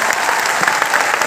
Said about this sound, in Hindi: हमारी टीम के लिए एक बार जोरदार ताली बजा दीजिए